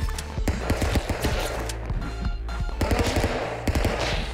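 Rapid gunfire in the video game Stick Fight, dense bursts of loud, close shots over continuous game noise, with no clear talking over it.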